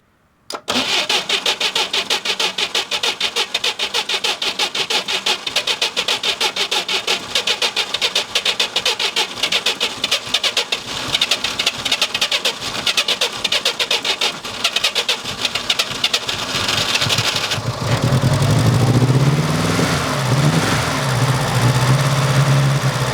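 An old car with a sticky choke cable cranks over and catches, then its engine runs at a rough, steady idle close by for about twenty seconds, with the tone shifting slightly near the end.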